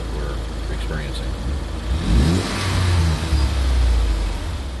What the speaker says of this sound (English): Rev it up, and it's pretty much the same. You can hear that the engine's running.